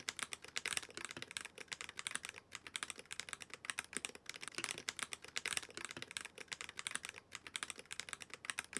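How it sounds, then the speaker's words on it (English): Typing on a MelGeek MADE68 Pro magnetic keyboard, a steady stream of crisp, close keystrokes with brief pauses, clattering alone throughout. "here's a little sound test of the MelGeek MADE68 Pro"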